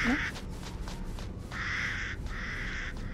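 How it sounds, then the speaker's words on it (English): Crows cawing in the video game Resident Evil Village, several harsh caws in an irregular sequence, loud and fairly close, with no talking. "Oh, if I had a gun, I'll shoot all you crows."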